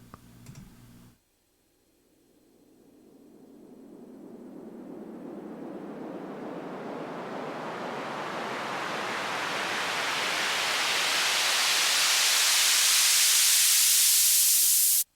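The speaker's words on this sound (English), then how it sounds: "this is just a white noise uplifter that we found in a cymatic sample pack" A white-noise uplifter sample from a Cymatics sample pack builds steadily for about fourteen seconds, growing brighter and louder until it cuts off abruptly, after a brief short sound at the start.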